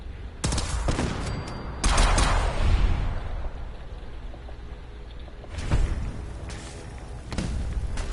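Bursts of gunfire in the video game Fallout 4, with loud volleys of rapid shots around one, two and six seconds and quieter pops trailing between them. No one speaks.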